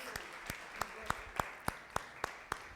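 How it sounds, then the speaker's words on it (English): Applause at the end of a business English class session: about ten steady, evenly spaced hand claps, fairly close and soft, from only one or a few people. "give a warm applause"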